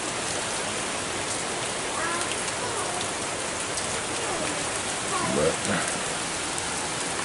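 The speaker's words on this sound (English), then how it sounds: "I don't know if you can see the rain coming in" Steady rain falls on and into an old, deteriorating house in Kentucky, a constant close hiss of drops with a few louder drips and splashes, and no talk.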